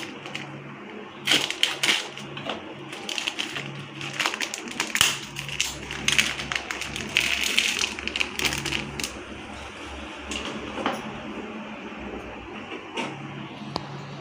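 Cardamom pods are cut on a board for biryani masala powder, with a run of quick irregular tapping and crunching knife clicks, close and moderately loud, thinning toward the end.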